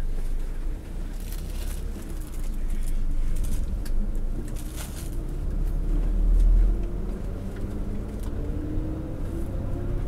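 Night highway bus from Hokuriku bound for Tokyo pulls away, its engine rumbling low and steady from inside the cabin and swelling briefly as it moves off.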